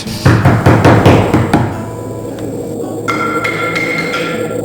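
A rapid series of loud, sharp knocks on a door in an audio drama, several hard raps in quick succession, then a ringing hollow decay and quiet room tone, no voices.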